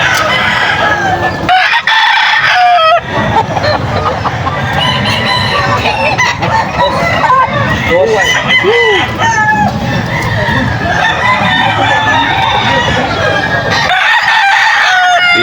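Game fowl roosters at an outdoor sale crowing and clucking continuously, several birds close by with overlapping calls throughout, a busy rural market din with a voice calling out under the birds.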